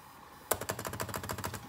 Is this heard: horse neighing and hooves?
no